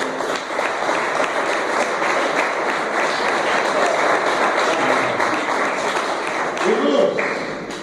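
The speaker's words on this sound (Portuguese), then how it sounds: "Aplauda o Senhor Jesus." Church congregation applauding at an evangelical service, a dense sustained clatter of many hands that runs steadily throughout with some voices mixed in.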